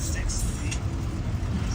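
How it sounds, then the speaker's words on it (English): Road traffic on Main Street in Santa Ana, a steady rumble of cars pulling away down the street, with a voice talking over it. "a lot of the cars are starting to take off"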